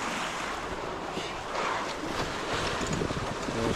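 Strong wind sweeps over open sea during a sailboat race, with a loud, constant roar of gusts and wind buffeting the microphone.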